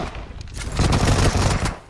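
Rapid burst of gunfire in the mobile battle royale game PUBG Mobile, a loud dense fusillade of overlapping shots lasting under two seconds.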